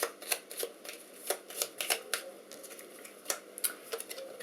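Quest cards for a board game being shuffled by hand, crisp papery riffles and slaps in irregular bursts over several seconds, close and clear with no talk.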